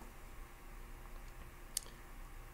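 A computer mouse button gives a quick, sharp click against a near-silent room, a single faint isolated tap with nothing else around it.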